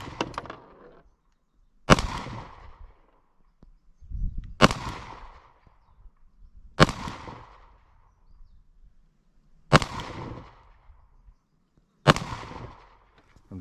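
Rifle shots at an outdoor range with an AIMWIN PN330 in use, five sharp loud cracks spaced about two to three seconds apart, each trailing off into a short echo, with faint low handling sounds between.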